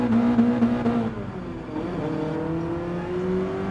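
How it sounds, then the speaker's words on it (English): BMW M3 Sport Evolution, the classic late-1980s sports car, revving in first gear in Gran Turismo Sport, a loud close engine drone with a tone that drops and then climbs steadily as it pulls away. "let's just kick up the engine on the first gear, and time to go straight"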